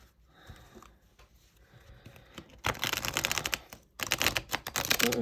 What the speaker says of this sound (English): And let's give her a shuffle and see how she shuffles.